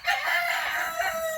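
A rooster crows once, close and loud, in a single sustained call lasting just over a second.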